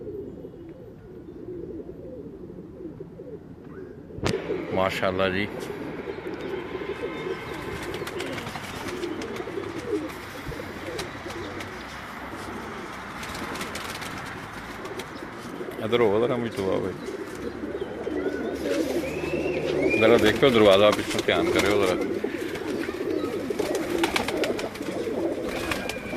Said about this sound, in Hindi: ये मैं आपको कबूतर दिखा रहा हूँ